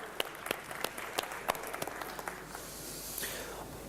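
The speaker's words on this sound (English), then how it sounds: "Let's give the conference organizers a round of applause." Scattered applause for the organizers of a software development conference, a thin patter of separate claps from a modest hall audience, fading into a softer wash toward the end.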